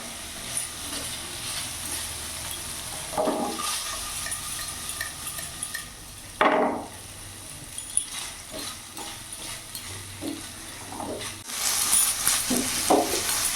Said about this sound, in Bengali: এরই মধ্যে আমি পনিরটাকে ভালো ফ্রাই করে নেবো।